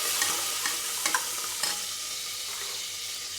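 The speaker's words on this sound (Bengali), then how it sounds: "পেঁয়াজটা দিয়ে ভেজে নিচ্ছি।" Onions frying in a pan as the base for beef, a continuous crackling sizzle close by, punctuated by several light stirring scrapes and taps.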